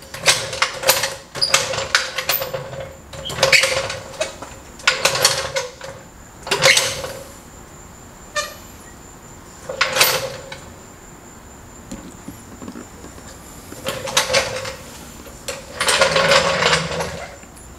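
A car jack ratchets on a garage floor coated with Behr Premium Gray Granite Grip, producing repeated bursts of metallic clicking and creaking separated by short pauses. The sound is close and fairly loud.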